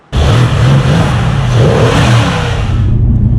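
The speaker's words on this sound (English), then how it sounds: "If there's one thing I like more than just a V8, it's a V8 with twin turbos." Mercedes C63 AMG 4-liter twin-turbo V8 revving loudly and close, a sustained deep roar starting abruptly and holding steady for several seconds before easing slightly.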